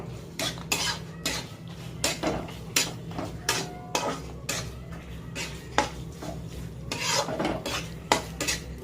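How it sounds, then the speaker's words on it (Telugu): A spoon scrapes and clanks in a pan while deep-fried chicken is stirred into a coriander lemon sauce, with repeated close metallic strokes and a faint sizzle in the background. "మొత్తం ఏమీ ఉండలు పట్టకుండా మొత్తం అంతా కలపాలి."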